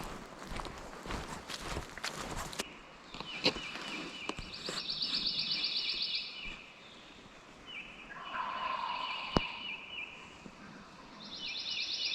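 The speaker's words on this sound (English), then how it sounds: "there's two birds gobbling" Distant wild turkey gobbles ring out several times over steady outdoor ambience in a Mississippi national forest, with a few rustling footsteps nearby.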